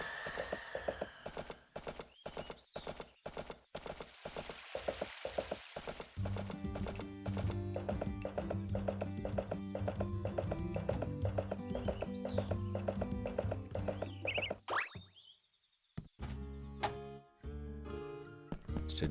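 Horse hooves clip-clopping in a rapid, regular gallop in the farming game Story of Seasons: A Wonderful Life, with a whinny near the start, game music underneath and a brief break toward the end.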